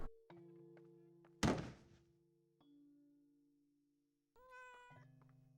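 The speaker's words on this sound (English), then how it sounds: "Hey, it's little cat friend." A cat meows in the horror video game Layers of Fear, a short rising harmonic cry near the end, after a loud thunk and scattered low game tones and hums.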